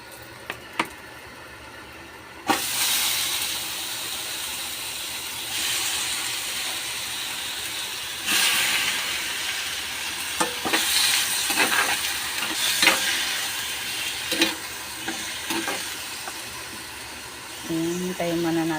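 Chicken pieces and broccoli frying in a pan, a steady sizzling hiss with occasional scraping and stirring clatters, continuous throughout at moderate volume.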